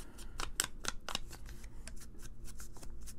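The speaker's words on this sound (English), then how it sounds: "And I'm going to tear, I think, pretty much everything." Paper being torn by hand for a double ephemera folder, with short crisp rips and rustles repeating in quick, irregular bursts, close and fairly quiet.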